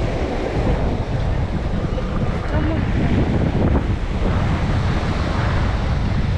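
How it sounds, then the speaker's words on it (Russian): A cool wind blows across the central seaside pier at Lazarevskoye, Sochi, in June. It makes a steady rumbling buffet against the microphone, with faint surf beneath. "Здесь ветерок такой уже про прохладнее дует на пирсе."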